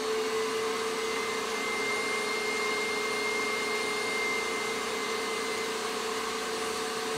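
An electric mixer whirs steadily as it beats cream cheese frosting for a pumpkin spice cake, a constant motor drone with a stable pitch that holds at the same level for the whole stretch and has no talk over it.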